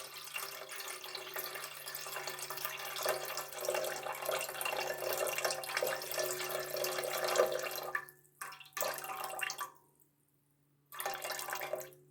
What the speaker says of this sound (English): First, measure out the water into the cooking pan, 400 grams.